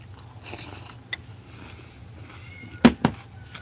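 A cat lets out two short meows close by, sharp and loud over a quiet room with a low steady hum beneath.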